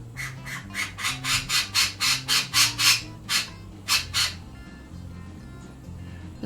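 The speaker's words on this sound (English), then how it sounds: "This bird is nuts." A pet bird lets out a rapid string of about a dozen harsh, loud squawks, close and evenly spaced, before falling quiet.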